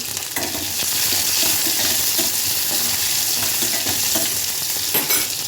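Chopped onions sautéing in a pan for village-style onion kuzhambu, a steady dense sizzle with occasional stirring scrapes, close and continuous without talk.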